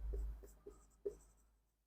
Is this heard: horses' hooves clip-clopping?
no